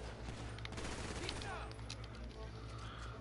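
Rapid gunfire bursts in GTA 5, dense fusillade crackling over steady game background noise, with players' voices talking over the shooting.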